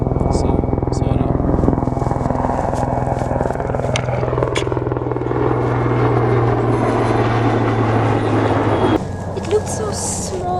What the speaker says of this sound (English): There's an attack helicopter coming